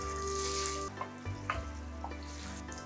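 Chopped onion crackles in refined oil, a close steady frying hiss with a few stirring knocks, under a continuous background music bed.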